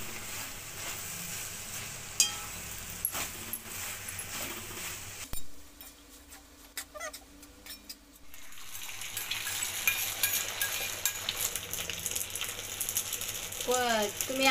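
Veg Hakka noodles being tossed and stirred in a hot pan, a steady sizzle with scraping clicks from the utensil, broken by a brief quieter pause midway before the frying noise swells again.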